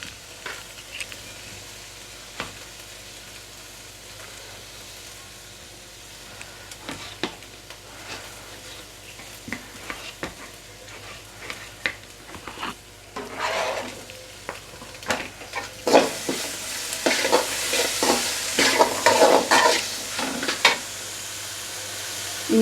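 Onion and tomato being tossed and sautéed in a pan for a crab gravy masala, with soft stirring scrapes and intermittent sizzling that swells louder and denser toward the end.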